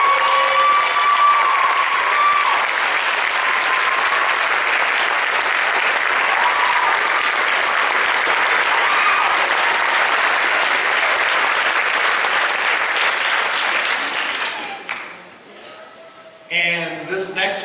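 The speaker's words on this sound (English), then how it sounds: "Please give a round of applause to Suzanne Sawyer." A school band concert audience applauds a French horn player, a long dense roar of clapping that holds steady and then fades out, after which a voice briefly begins speaking.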